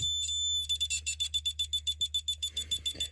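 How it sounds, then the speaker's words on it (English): A shrill electronic tone from a Snap Circuits Extreme SC-750 oscillator pulses in rapid, even beeps, like a smoke alarm, over a low steady hum. "the oscillator sounds a lot like a smoke detector"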